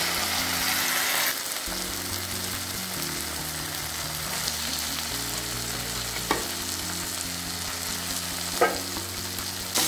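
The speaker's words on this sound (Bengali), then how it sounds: "দেখুন মশলাটা কিভাবে কষিয়ে নিয়েছি, মশলা থেকে কিন্তু তেল ছেড়ে বেরিয়ে যাচ্ছে।" Spice paste sizzles and fries steadily in hot oil as it is cooked down for a Bengali banana-flower and prawn dish, a continuous close crackle with a few brief scraping stirs.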